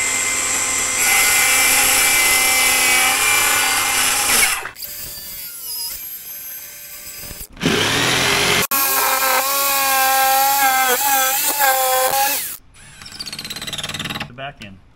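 A powerful Milwaukee circular saw cuts material in loud, whining bursts with spin-down pauses between them, ending with the blade winding down. A voice can be heard between cuts.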